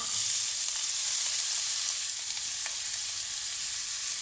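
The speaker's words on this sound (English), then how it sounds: "And we're simply going to add our couple of onions." Onions fry in hot oil in a pan, giving a constant close sizzling hiss with faint crackles throughout and no speech.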